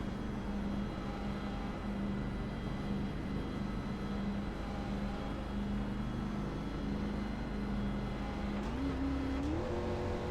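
Steady engine roar from CRA K&N Series race cars at Daytona, a continuous droning hum held at an even level, with the pitch climbing as one engine revs up near the end.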